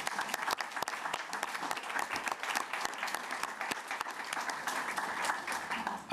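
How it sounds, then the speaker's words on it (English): An audience at a city planning commission meeting applauds council members, community members and staff, with a dense, even burst of clapping from many hands sustained for several seconds. "I think we should give them a round of applause"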